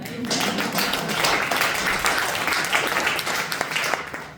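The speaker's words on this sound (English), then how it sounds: "Can we get a hand clap for that?" Crowd applause at a political campaign kickoff, a steady wash of many hands clapping close and loud for the full length, with a voice or two faintly under it.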